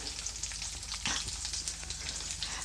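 Garlic cloves sizzle steadily in hot oil in a pan while a savory rice-flake snack mix is cooked, with a constant dense frying hiss, a brief stronger crackle where the garlic drops in, and no talking.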